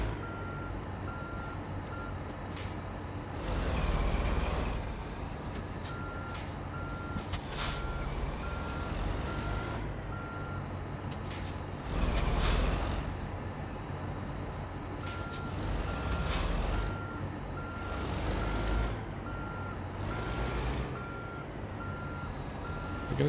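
A long wheelbase truck reverses in a trucking video game, steady engine drone under a regular, evenly spaced reversing beep, with a few louder hissing bursts like air brakes.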